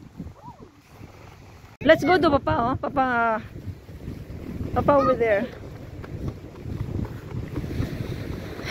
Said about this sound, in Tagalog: Mahangin talaga mga people.